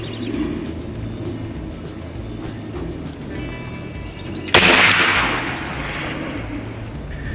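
Single sharp crack of a big-bore AEA HP MAX 457 airgun firing a slug outdoors, loud and close, with a brief decaying tail over steady background noise and faint birdsong.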